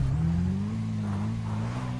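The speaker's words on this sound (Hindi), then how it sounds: "भड़क भाग रही है गाड़ी इसकी गाइस" A video-game car's engine revs up and holds a steady, loud droning pitch as the vehicle speeds away, running alone for about two seconds.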